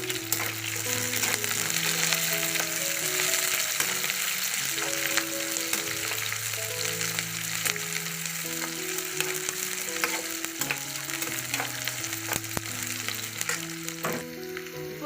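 Onion, curry leaves and five chopped green chilies fry in oil for a restaurant-style poori masala, giving a steady, fairly loud sizzle throughout with background music underneath.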